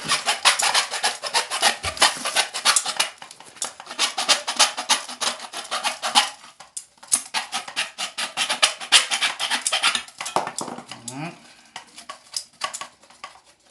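A loose hacksaw blade, held by hand, cuts a piece of a toilet tank part to length. The rasping strokes are close, rhythmic and back-and-forth, with a brief scrape near the end.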